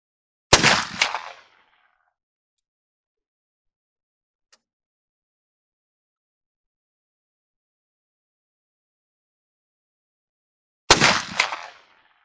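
Two loud .50 Sharps rifle shots, fired at a target about 100 yards away, come roughly ten seconds apart, each a sharp close crack with a short echo tail and near silence between them.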